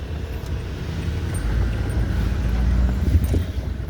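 Busy street traffic at a market, with a steady low rumble of passing vehicles and engines, a faint horn-like tone and scattered background clatter, fairly loud and continuous.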